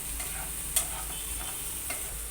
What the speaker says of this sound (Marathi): दोन 3 मिनिटे छान गुलाबी रंगावर परतून घ्यायचा कांदा.